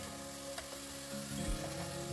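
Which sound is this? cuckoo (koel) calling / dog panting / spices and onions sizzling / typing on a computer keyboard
spices and onions sizzling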